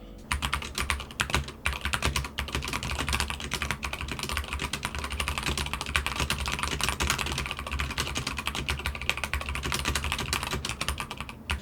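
Typing on a SteelSeries Apex Pro keyboard with OmniPoint switches, a fast, steady flurry of close keystroke clacks continuing throughout at moderate level, with no talking.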